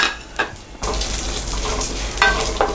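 Chana dal, fenugreek and fennel seeds dry roasting in a pan for moong dal sambar, with a dry rattling scrape and rustle of stirring, two sharper clattering bursts near the end, close and fairly loud.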